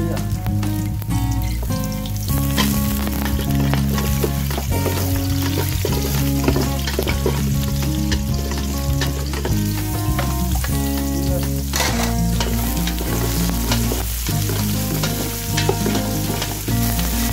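Garlic sizzles steadily in a hot pan, a loud continuous frying hiss with stirring, no voices.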